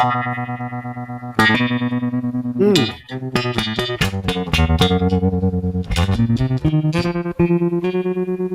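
Electric guitar through an Earthquaker Night Wire harmonic tremolo pedal with its filter set to envelope, distorted notes and chords played loud and close, each attack opening into a quacky filter sweep with pulsing tremolo.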